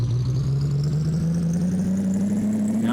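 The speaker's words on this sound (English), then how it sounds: "You have to wait for the engine to hit." A truck engine in the Big Rigs: Over the Road Racing video game drones steadily and slowly climbs in pitch as it revs, a continuous hum with no talk.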